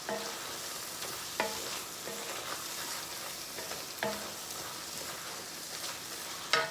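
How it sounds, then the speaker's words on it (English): Crawfish tails and corn maque choux in butter and fat, stirred in a pot over a steady sizzle, with scraping strokes and utensil knocks recurring every second or so. "When you start seeing these crawfish curl up, we almost there. Lots of stirring."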